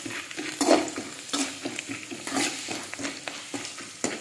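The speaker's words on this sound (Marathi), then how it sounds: "म्हणजे शेंगदाणे थोडेसे टाकूया" Peanuts dropped into a pan with onion and roasted while being stirred, giving a close, soft sizzle broken by repeated scraping and rattling strokes of a utensil against the pan.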